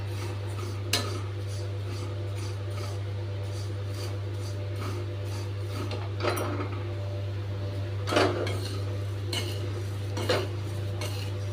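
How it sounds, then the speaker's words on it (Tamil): Flattened rice (aval) is dry-roasted in a pan with a spoon, giving soft scraping and a few metallic clinks over a steady low hum, with no talking. "இப்போ இந்த அவில் லேசாக சூடார வரைக்கும் வறுத்துண்டா போதும்"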